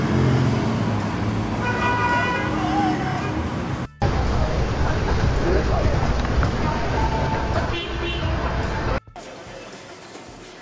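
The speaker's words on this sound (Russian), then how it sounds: "По крайней мере, слышны сигналы автомобилей." Synthetic car horns honking over a dense wash of traffic and road noise, several short toots layered in a busy street scene, with abrupt cuts between segments.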